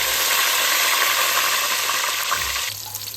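Cumin, mustard seeds and curry leaves crackle and fry in hot oil for an idli sambar tempering, a loud steady broadband sizzle with a brief low clunk near the end and no voices.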